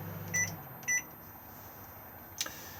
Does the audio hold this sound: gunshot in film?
no